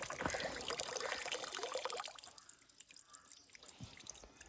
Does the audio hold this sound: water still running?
yes